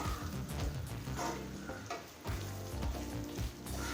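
Pumpkin halwa with ghee being stirred in a kadai, a steady sizzle and frying hiss with soft scraping stirs, close and continuous, dipping briefly midway before resuming.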